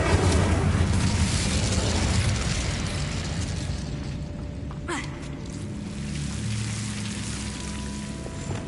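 Incendio fire spell cast in Hogwarts Legacy, a loud roaring whoosh of flame that swells and sustains, with a sharp crack midway and a lingering fiery rumble afterward.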